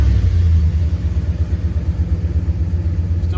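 A 2002-2005 Dodge Ram engine idles after a dash replacement, a loud, close, steady low rumble with a faint pulsing throb and no talk.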